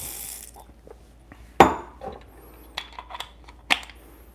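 A 1Zpresso KPlus hand coffee grinder is set to a new grind size, giving a few sharp, separated mechanical clicks and ticks close by, with quiet gaps between them.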